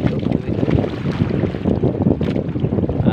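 Steady blustery, cold wind buffets the microphone, a low roaring rumble that continues throughout with no voices.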